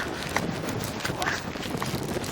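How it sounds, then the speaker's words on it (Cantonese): Strong wind and heavy rain near Gullfoss waterfall in Iceland: loud, constant rushing and buffeting close against the microphone, with a voice speaking over it. "好大風！"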